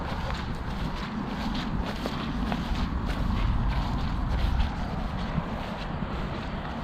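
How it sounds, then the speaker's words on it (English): Soft, steady footsteps squelching over wet, muddy ground, with a constant low rumble of wind or outdoor noise underneath. "You can hear the squishiness underfoot."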